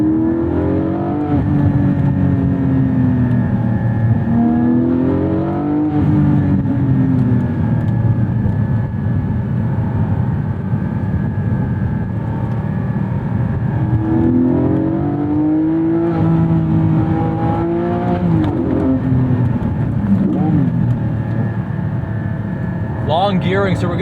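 Porsche 718 Spyder driven on a twisty street in second gear, engine note rising and falling through long revving pulls, loud and close inside the cabin, with someone talking over it.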